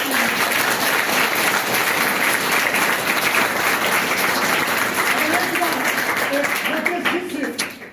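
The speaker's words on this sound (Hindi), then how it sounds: "राकेश नंदन जी के लिए भी एक बार ताली" An audience at a Hindi devotional Ramayana storytelling event bursts into sustained applause, a dense, loud clapping that holds steady for several seconds and then fades out at the end.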